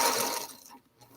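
A sewing machine stitching quilt blocks gives a brief, quiet whirring burst that fades out partway through and then faintly resumes.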